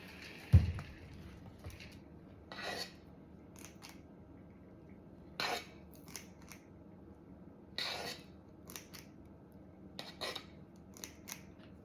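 Thick pecan praline candy mixture is dropped from a wooden spoon onto wax paper, with a sharp clack near the start followed by scattered soft scraping taps and clicks at irregular intervals, close and quiet.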